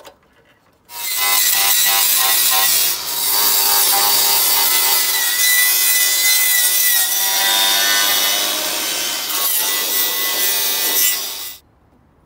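A grinder works on the front end of a motorcycle, a loud, continuous abrasive rasp that starts abruptly, dips briefly twice as the tool shifts, and then cuts off near the end.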